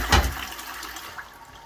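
A toilet flushing in a home bathroom after drain rods cleared a build-up in slow-draining pipes: one sharp rush of water up close at the start, easing into a steadier gurgling wash as the bowl drains.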